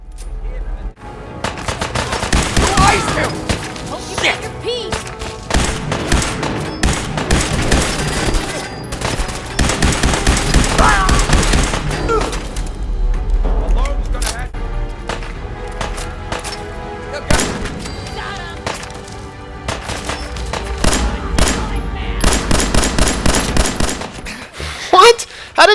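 Repeated gunfire bursts and volleys from Fallout 4 combat, loud and dense, with rapid automatic strings and single shots throughout, alongside deep low booms.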